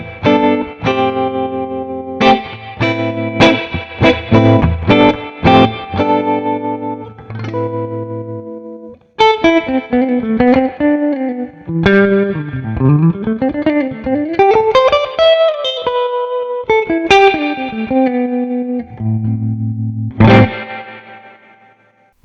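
Clean Ibanez GB10EM AA jazz electric guitar on the middle pickup with heavy reverb, strummed chords followed by melodic single-note lines and slides, ringing out with long echoing tails.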